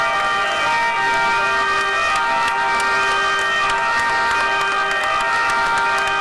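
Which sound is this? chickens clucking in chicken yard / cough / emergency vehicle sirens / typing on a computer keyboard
emergency vehicle sirens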